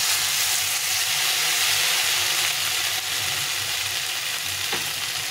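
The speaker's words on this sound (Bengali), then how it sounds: "আলু আর পটলটা ভাজা ভাজা হয়ে গেছে, একদম তেল ছেড়ে দিয়েছি" Potatoes and pointed gourd fry in oil with a steady, dense sizzle that holds evenly throughout, close and fairly loud, with one brief clink near the end.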